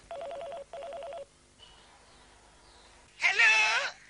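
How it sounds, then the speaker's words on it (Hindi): Two short bursts of telephone dialing tones, then quiet, then a brief loud ringing or voice-like burst near the end. "फोन मैं करूंगा चंपा की आवाज में"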